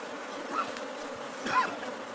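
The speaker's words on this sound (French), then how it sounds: "ces villageois ont repéré un essaim d'abeilles à l'intérieur de ce baobab" A swarm of bees hums continuously from inside a baobab tree on the steppe, the buzzing close and steady, swelling twice with louder passes of individual insects.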